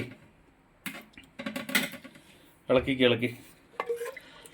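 Potato curry being stirred with salt in a pot: several bursts of scraping and clinking from a spoon against the pot, separated by short pauses, close and moderately loud.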